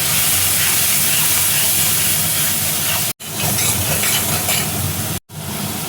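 Red chili powder and ground spices sizzling loudly in hot oil as a little water is added, a harsh steamy hiss that stays close and continuous, broken by two brief silent cuts.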